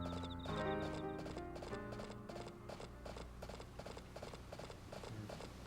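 Horse hooves clip-clop in a steady, quick rhythm in the video game Harvest Moon: A Wonderful Life, crisp and even, with light mechanical clicks and tones alongside.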